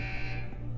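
A shrill electronic alarm in the video game Deus Ex Human Revolution blares steadily and loudly for a brief moment with no talk over it.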